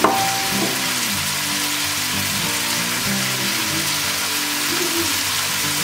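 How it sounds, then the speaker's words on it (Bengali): Spiced masala with eggs sizzles and fries steadily in a pan for Bengali egg korma, a continuous loud crackling hiss with occasional stirring scrapes. "ডিম দিয়ে ভালোভাবে আমরা আর একটু কষিয়ে নেব।"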